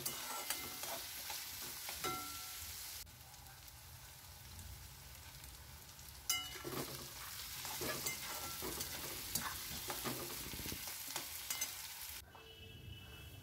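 Potatoes fry with chopped onions and garlic paste in a pan for a fish-head, potato and cauliflower dish, a steady close sizzle with scattered scraping stirs, dropping briefly quieter midway and ending abruptly.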